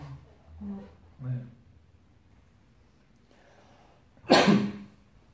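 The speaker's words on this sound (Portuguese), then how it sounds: "A gente tá tudo tossindo, nariz correndo" A single sharp, loud cough bursts out close by after a few short murmured sounds and a pause, from a person with a cold in Curitiba, Brazil.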